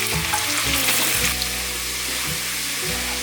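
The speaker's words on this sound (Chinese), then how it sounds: "放入香菇， 把香菇炒香" Shiitake mushrooms stir-fried with minced ginger and celery in a vegan home kitchen, a loud steady sizzle with rhythmic scraping stirs of the spatula against the wok, no voices.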